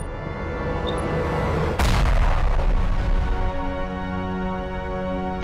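A single deep boom from a dynamite blast erupts about two seconds in over steady loud background noise, its rumble lingering afterward.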